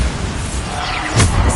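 A Bombarda explosion spell goes off in the video game Hogwarts Legacy on PS5, a short booming burst with a dense rumbling low end and a brief bright crackle, loud and close.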